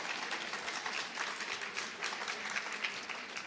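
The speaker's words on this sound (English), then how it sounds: "For that you can clap." Audience clapping during a rabbi's talk at a Nshei Chabad event, a continuous soft spatter of many hands that sounds somewhat distant and quiet throughout.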